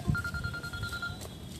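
A single steady electronic ring tone sounds for about a second over a low background rumble, then stops.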